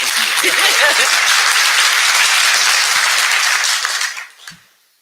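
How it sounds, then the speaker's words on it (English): Steady round of audience applause at an IETF working group meeting, a dense wash of many hands clapping for about four seconds before fading out quickly into near silence. "we'd like a brief round of applause for our new working group chair"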